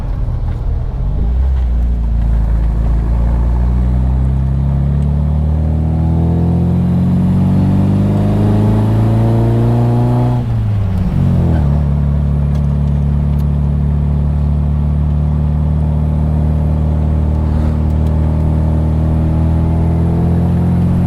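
An MGB Roadster's engine labours uphill at half throttle, a loud, close drone whose pitch climbs slowly, breaks briefly as it drops, then holds steady; no voices are heard.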